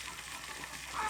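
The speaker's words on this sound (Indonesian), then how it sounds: "sama seperti air yang dalam panci ini mendidih" Water boiling in a pot, a steady close bubbling hiss that holds evenly throughout with no talk.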